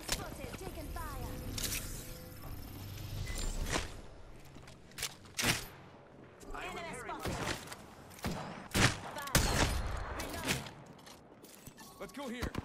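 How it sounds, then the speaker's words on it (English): Gunfire in a shooter video game, with scattered sharp shots and bursts cracking out over a busy game soundscape, loud and close at several moments, while a voice talks through much of it. "Shots fired, and they're hitting me."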